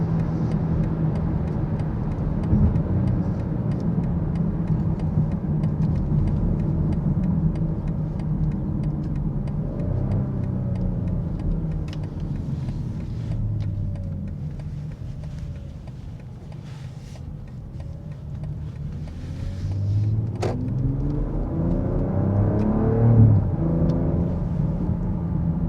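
A 2025 BMW X3 M50 accelerates hard from inside the cabin, the engine note rising and falling through gear changes under a constant road rumble, growing louder toward the end.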